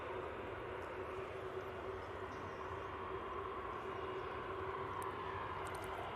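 An EasyJet Airbus A320neo departing Manchester Airport, a steady broad jet roar with a faint whine, sustained and fairly distant, alone without talk.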